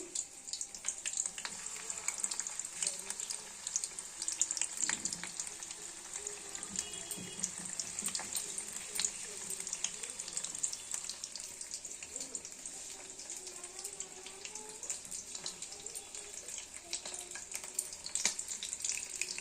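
Steady hissing sizzle of fish frying in hot oil on medium heat, a constant crackling wash with occasional faint clinks, no voices.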